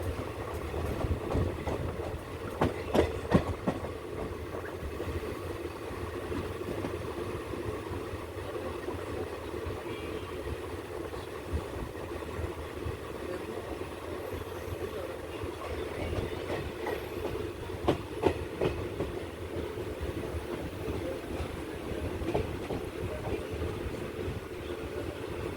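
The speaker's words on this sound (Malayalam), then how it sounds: "ഇപ്പോൾ ട്രെയിനൊന്ന് സ്ലോ ആയി കേട്ടോ." A Velankanni Express diesel passenger train rolls along, a steady low rumble with rhythmic wheel clicks and occasional clanks as it eases off speed, heard from inside the coach with no talk.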